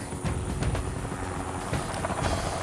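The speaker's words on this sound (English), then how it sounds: "What the helicopter will do, will come in, he'll have a quick circuit to be sure it's a safe LS." Helicopter inbound to a jungle landing site, coming in for a quick circuit before landing; a steady loud rotor thrum with rhythmic blade pulses fills the whole stretch, with no talk over it.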